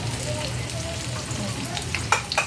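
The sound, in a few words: vadis frying in oil with sesame seeds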